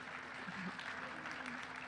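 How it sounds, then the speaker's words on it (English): Audience applause in a hall at a literary festival session, a steady wash of clapping from a crowd lasting under two seconds, fairly faint and even throughout. "that deserves louder applause"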